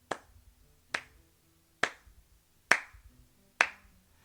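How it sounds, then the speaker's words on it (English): Five sharp, isolated claps spaced roughly a second apart, crisp and close with short decays, nothing else in between. "you hear clapping in your head"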